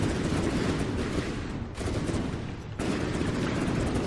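The Brush Cutter vehicle in the game From the Depths fires rapid, dense gunfire in a continuous rattling barrage, loud and close, with two brief lulls before it resumes.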